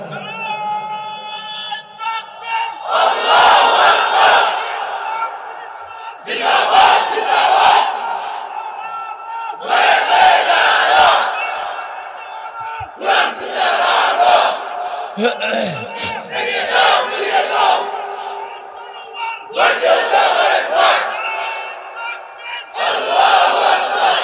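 A large religious gathering shouts the takbir chant in unison, with loud massed call-and-response bursts repeating roughly every three seconds and a lone leading voice between them.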